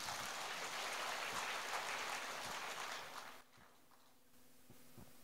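Warm, dense audience applause at a Buddhist fellowship gathering in Paris rolls on for about three seconds, then abruptly drops away to near silence, heard faintly at a distance.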